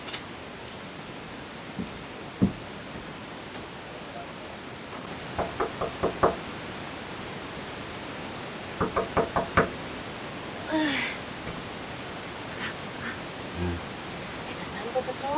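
Knocks on a house door in a Sundanese short drama, a few isolated raps early on and then a cluster of sharp rapid knocks midway, set against a quiet room with light background hiss.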